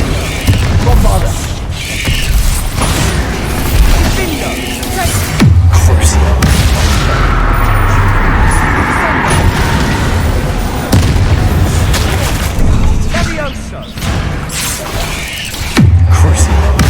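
Bombarda explosion spells in Hogwarts Legacy set off repeated deep booms, several heavy blasts spaced a few seconds apart amid crashing rubble and battle noise, loud and close, with voices breaking in between.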